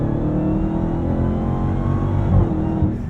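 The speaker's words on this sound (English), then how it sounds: "Well, there's that supercharger. And these shifts are quick from this 8-speed." A supercharged Dodge Challenger SRT Jailbreak with an 8-speed gearbox accelerating hard, heard from inside as a loud, deep, steady engine drone with a brief surge near the end as the revs lift, no speech.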